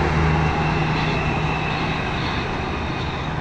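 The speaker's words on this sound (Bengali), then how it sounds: "প্রতি 2 মিনিট পর একটা ট্রেন আসে" A high-speed metro rail train rushes past nearby with a loud, steady roar and hiss that holds strong for a few seconds, no voices over it.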